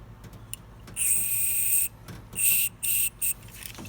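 WD-40 sprayed onto a broken exhaust manifold bolt on a Chevrolet GM Tahoe 5.3 Vortec, heard as close hissing bursts: one long spray, then a longer burst and two short ones.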